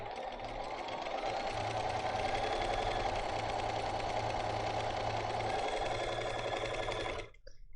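A sewing machine stitches fabric at a steady fast rate, a continuous close buzzing hum for about seven seconds before stopping abruptly.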